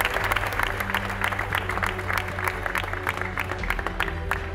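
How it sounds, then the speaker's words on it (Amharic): A church congregation breaks into sustained applause, a dense, steady wash of many hands clapping from start to finish, with faint voices underneath. "ለእግዚአብሔር ክብር ግን አጨብጭቡ"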